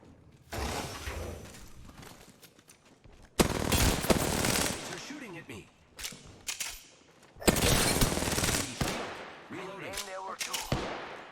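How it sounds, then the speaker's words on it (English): Enemy gunfire in the Apex Legends video game: loud bursts of rapid automatic fire that arrive in separate volleys, with short quieter gaps between them and a person talking in the background. "They're shooting at me."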